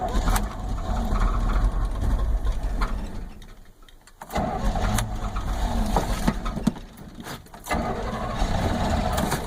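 A 1974 GMC Sierra Grande truck engine with a weak side-terminal battery, fuel-starved and on seven cylinders, cranks and catches with a loud, rough mechanical roar, briefly dropping off mid-clip before surging back strongly.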